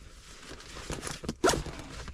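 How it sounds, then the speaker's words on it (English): A zipper being pulled closed on a Feiwood tactical front seat duty bag inside a truck, a few short rasping zips with a sharper, louder pull near the end, close to the microphone. "We'll zip all this stuff up."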